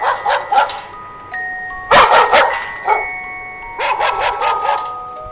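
A dog barks in quick clusters of sharp woofs, several in a row, with steady chiming tones sounding in the background.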